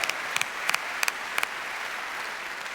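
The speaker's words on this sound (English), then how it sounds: "let's give Peter a well-deserved applause" Applause from a debate audience honouring Peter, a steady wash of clapping from a large crowd with a few sharper claps standing out in a regular pattern, heard alone with no voices.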